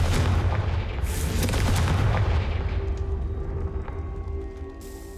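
Confringo fire spells blast in the Hogwarts Legacy video game, a loud close booming burst that rumbles and fades over several seconds.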